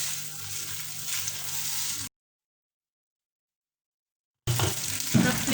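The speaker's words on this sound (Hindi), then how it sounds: "मैं थोड़ा सा घी में इनको अच्छी तरीके से राइस को मिक्स कर लूँगी।" Rice being stirred and fried in ghee for mutanjan, a sweet rice dish, giving a steady broadband sizzle that cuts off to silence for about two seconds, then resumes with a few scraping stirs.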